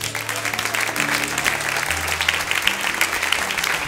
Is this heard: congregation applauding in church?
yes